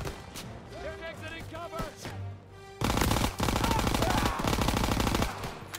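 Call of Duty: WWII campaign gunfire on Veteran difficulty, with sporadic sounds and voices early on, then a sudden loud, sustained burst of automatic fire that fills the second half.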